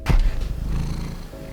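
A cat purring close by, a low steady rumble following a soft thump at the start, continuing quietly with no voice over it.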